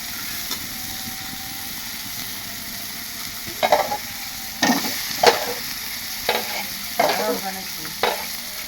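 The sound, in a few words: sautéing curry in a pan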